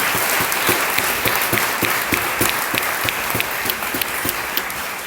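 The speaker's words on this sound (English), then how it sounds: "I said do a round of applause for the people that came to the microphone" An audience at a public consultation meeting on the Danforth-Kingston Complete Streets project claps steadily, a dense, sustained round of applause with some sharper individual claps standing out throughout.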